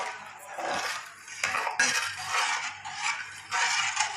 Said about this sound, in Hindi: अब सारा इसमें इसी तरह मिक्स कर लेंगे।